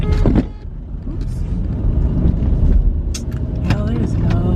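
A car drives slowly through streets while searching for parking, with steady road and engine rumble inside the cabin and a person talking over it.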